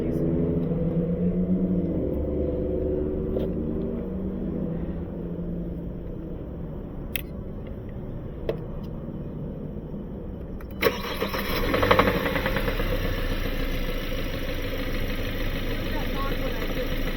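A 2018 Kia Sorento with a blown engine cranks and fires up, then settles into a steady, rough-sounding idle rumble, heard close with people talking nearby.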